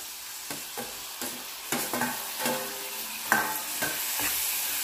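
Turmeric is stirred into ingredients frying in a pan for a dried prawn and egg curry, a spatula scraping in repeated strokes over a constant crackling sizzle, nearby and fairly loud.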